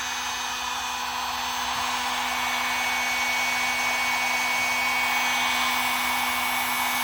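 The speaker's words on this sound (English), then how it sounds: "Depending on your heat gun, it's usually ready to go in about a minute." Heat gun blowing a steady, loud, unbroken hot-air roar close up while warming plastic for a boat ladder standoff, with no talk.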